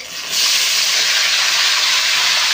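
Hot oil sizzling loudly in a cooking pan, a steady, dense hiss that jumps up after a brief quieter start and holds constant, with no voices.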